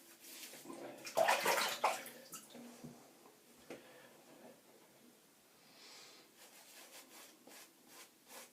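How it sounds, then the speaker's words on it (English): Water splashed by hand onto a face before a wet shave, a brief burst of wet rubbing and splashing near the start, then quieter dabbing and faint rustling. "Let's just add a drop of water to my face."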